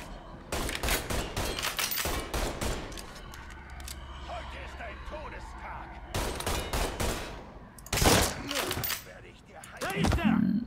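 Enemy gunfire in Mafia 3, loud bursts of rapid automatic shots in several volleys with short pauses, plus single sharp cracks near the end, and someone talking between them.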